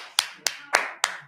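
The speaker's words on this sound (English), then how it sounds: "I'm clapping for myself." A man claps his own hands four times in an even, unhurried rhythm, each clap a sharp, close, moderately loud slap with a short ring-out, alone without voices, during a church sermon.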